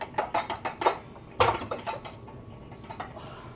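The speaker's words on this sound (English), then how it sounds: "I'm just getting out my big bowl here." A big mixing bowl being taken out and set down, a series of clattering knocks and scrapes of kitchenware, close and moderately loud, building to a sharper clunk, then quieter handling.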